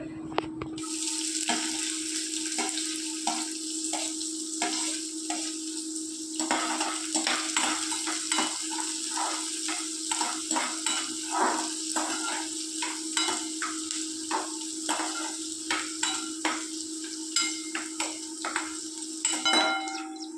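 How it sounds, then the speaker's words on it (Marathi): Chopped onion frying with cumin and mustard seeds in a pan for a bitter gourd dish, a steady close sizzle with a constant hum beneath and repeated scraping stirs throughout. "कांदा चांगला लालसर कलर येईपर्यंत आपल्याला भाजून घ्यायचा आहे."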